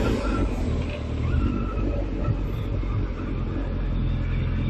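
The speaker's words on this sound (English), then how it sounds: "Bit of commuting traffic now." Commuter traffic on a Somerset road flows past, a continuous mid-distance rumble of car engines and tyres at a fairly even level, with no voices.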